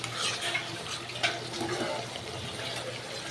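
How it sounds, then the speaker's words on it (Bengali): Spice paste for an egg curry being stir-fried in released oil in a pan, giving a continuous soft sizzle with scraping stirring strokes at close range and no talk. "মশলাটা কষানো হচ্ছে।"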